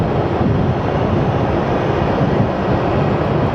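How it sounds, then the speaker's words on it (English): A Southwest airliner takes off from runway 26 at Phoenix Sky Harbor Airport bound for Tampa, giving off a dense, loud, continuous engine roar that stays steady across the short stretch. "So we do have our Southwest plane departing for"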